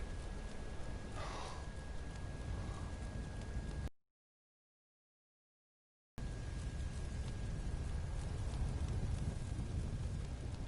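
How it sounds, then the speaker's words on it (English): Steady rain in the video game Skyrim hisses continuously with a soft low rumble beneath, briefly cutting to silence midway before the downpour resumes. "It's bloody raining out."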